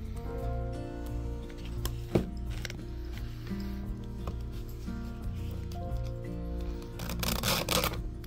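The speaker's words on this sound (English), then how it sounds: "You'll notice that I'm rolling my file as I go through the tooth." Hand file scraping a mini chainsaw tooth, rolled while pushed through the cutter, giving a series of soft close rasping strokes with small clicks and a brief louder scrape burst near the end.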